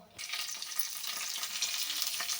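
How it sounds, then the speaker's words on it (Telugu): Bay leaf and cumin seeds frying in hot oil in a pan for tomato rice, a steady dense sizzle starting abruptly and continuing loud and close throughout, with no talking. "ఆయిల్ వేడయ్యాక బిర్యానీ ఆకు జీలకర్ర ఫ్రై చేసుకోవాలి"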